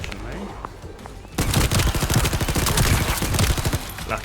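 Rapid bursts of submachine gun fire from an SMG in the video game The First Descendant, starting abruptly after a quiet lead-in and continuing loud and sustained as dense automatic fire to the end.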